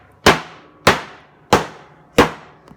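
A water heater is struck four times in a steady rhythm, each blow a sharp, loud metallic bang with a short ringing decay, close by.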